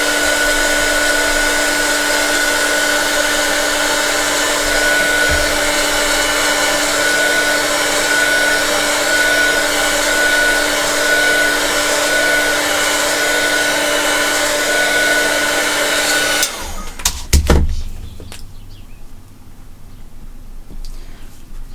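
A hair dryer blows steadily and loudly over mixed media artwork, holding one even whir for about sixteen seconds before it cuts off, followed by a few brief handling knocks and quiet room tone.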